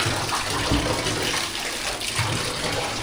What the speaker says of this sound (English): Finally, the first night of having hot water in this house.